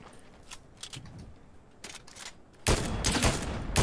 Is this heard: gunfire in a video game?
yes